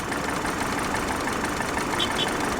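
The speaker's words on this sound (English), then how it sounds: "Looks like it's idling a little on the rough side." A repossessed Infiniti QX56 SUV idles unevenly with a steady, slightly lumpy engine hum and faint knocking, heard up close and alone without talk.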